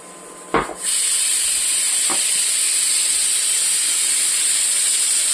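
A click and thump, then an electric mixer grinder starts up blending jackfruit for a shake and runs with a loud, steady, high whirring hiss that keeps going.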